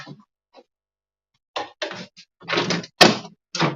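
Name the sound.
door opening as someone walks out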